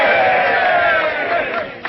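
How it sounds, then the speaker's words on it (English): Crowd of men letting out a loud rousing cheer in an old western town scene, a dense sustained shout of many voices that fades out at the end. "A cheer for the little lady."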